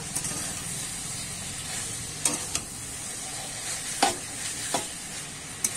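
Food stirred in a pan after being covered and cooked down for a minute, a steady sizzle with several sharp scraping strokes of the utensil scattered through, close by with no talk.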